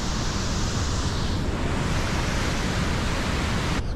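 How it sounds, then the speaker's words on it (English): Niagara Falls roaring from within about ten feet, a dense, loud, unbroken rush of falling water that fills the whole clip, with no voices. "that got me within 10 feet of the falls"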